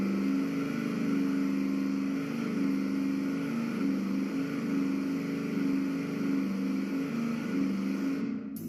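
An engine runs on a dyno at a steady 3,000 RPM, a loud, constant, droning tone with slight periodic wavering that holds for about eight seconds before dropping away at the end.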